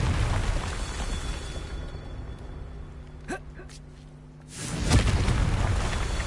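A Confringo fire-spell blast in Hogwarts Legacy: a loud, sustained roaring whoosh of fiery explosion, dipping briefly before a second heavy burst swells up near the end.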